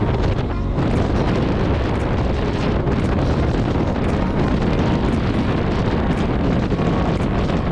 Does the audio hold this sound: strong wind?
yes